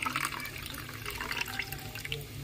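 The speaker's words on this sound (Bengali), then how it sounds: "এটা দিয়ে এবারে জল দিয়ে একটু মিক্স করে নেব" Water is poured into a bowl of spice mix with turmeric and salt, giving a soft, continuous trickle and splash at low volume, with no voices.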